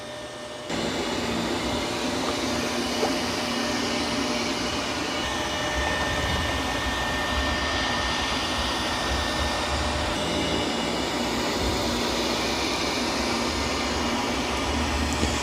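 A eufy robot vacuum runs across a carpet with a steady, even whirring hum that holds for the whole stretch with no talk.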